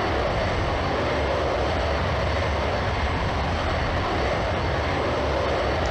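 Tornado jet in the Falcon 4 Allied Force flight game, a loud continuous roaring engine rush flying at around Mach 2, steady and unbroken throughout with no talking.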